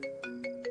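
A phone ringtone trilling in four quick, evenly spaced electronic bursts, clear and moderately close, with no one answering or speaking.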